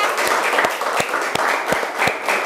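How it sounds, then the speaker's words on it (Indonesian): Classroom applause from students during an Indonesian teaching-practice lesson, a brisk run of uneven claps with individual hand strikes standing out over a steady wash of clapping. "Tepuk tangan semuanya."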